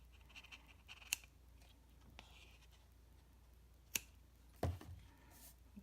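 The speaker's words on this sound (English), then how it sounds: "Then I'm going to just take my scissors and cut this." Quiet scissor snips through card come in a few sharp clicks spread apart, with faint rustling in between and a louder clack near the end.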